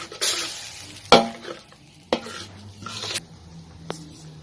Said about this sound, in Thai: ใส่ลงไปเลยครับแล้วผัดครับ